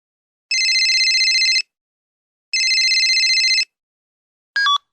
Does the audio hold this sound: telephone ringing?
yes